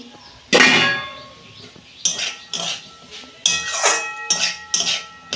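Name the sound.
lid being taken off a cooking pot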